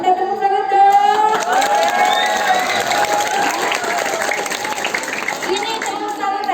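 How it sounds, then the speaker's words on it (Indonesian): Schoolchildren clap together on a teacher's cue at an Indonesian school, with loud, busy clapping and crowd noise. A tonal, whistle-like sound and voices sit among the clapping throughout. "Kita tepuk tangan dong."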